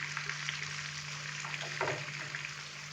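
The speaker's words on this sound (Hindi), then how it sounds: "प्याज डालने के बाद हम प्याज को लाइट ब्राउन होने तक फ्राई करेंगे।" Chopped onion fries in a pot, a steady soft sizzle with occasional stirring scrapes and crackles, close and fairly faint, no voices.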